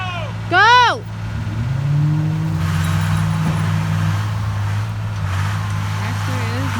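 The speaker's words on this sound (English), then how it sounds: "Tractor is moving." A heavy tractor engine drones steadily at low pitch, close and continuous, as the tractor moves in woods while hauling wood, while a voice briefly calls out over it.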